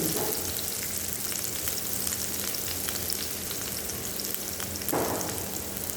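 Garlic and onion sauté in oil for chicken adobo, a dense, even sizzle heard up close and alone, with no talking.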